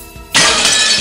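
After a low, quiet hum, a sudden loud shatter of breaking glass bursts in and sustains as a bright, crackling spray of fragments until the end.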